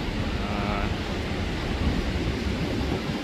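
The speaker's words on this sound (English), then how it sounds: "The wind is actually blowing so hard that the waves are coming in at a slight angle" A strong wind roars across Daytona Beach on an April day as surf rolls in, a loud, continuous rushing wash with heavy wind buffeting on the microphone.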